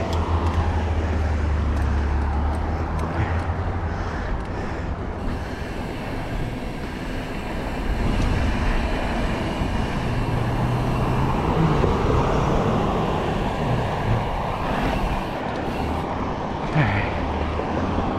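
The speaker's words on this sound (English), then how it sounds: "What are all the cars doing here?" Cars and road traffic passing on a roadway during a hot-weather mountain bike commute, a steady loud rumble with swells as vehicles go by close, no talk heard.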